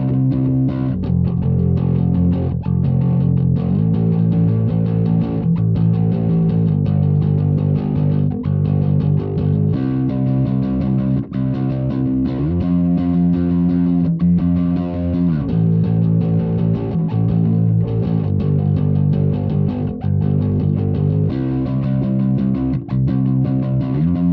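A bass guitar runs through a Neural DSP Nano Cortex with heavy distortion, playing a loud, steady groove of sustained, gritty notes and riffs that shift pitch every second or so, with no voices throughout.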